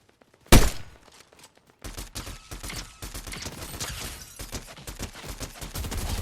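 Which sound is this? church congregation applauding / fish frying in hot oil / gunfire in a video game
gunfire in a video game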